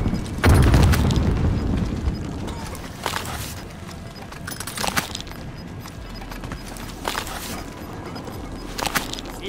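A grenade explodes in Call of Duty: Modern Warfare with one heavy, booming blast near the start, followed by scattered sharp cracks and impacts in the surrounding battle noise.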